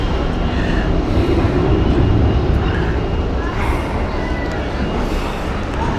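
An airliner climbing out after takeoff from runway 16 at Zurich Airport produces a loud, broad engine roar that holds steady throughout, with a voice talking faintly underneath.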